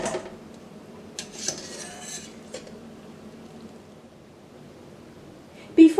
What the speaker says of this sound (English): Remove from saucepan and place them into a bowl.